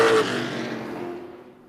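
Race trucks on the oval at Tucson Speedway, a loud engine roar building out of turns three and four and then fading as the field pulls away.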